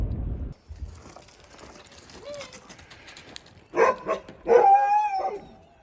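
Dogs in stalls at a kennel in Skagway, Alaska bark and yip a few times, loud and close, after a quieter stretch with faint rustling and a brief low rumble at the start.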